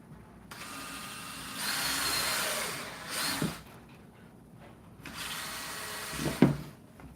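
Power drill boring the last handle hole in a wooden serving tray, running in two sustained whirring bursts of a couple of seconds each, separated by quiet, with short mechanical clicks at the end of each burst.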